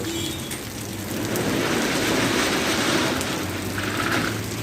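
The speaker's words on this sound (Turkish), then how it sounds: "Yağmurla birlikte acayip soğudu." Heavy rain pouring down on a cold day, a thick, steady roar of drops on nearby surfaces that swells slightly midway, with no voices.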